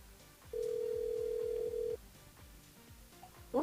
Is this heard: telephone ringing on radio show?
yes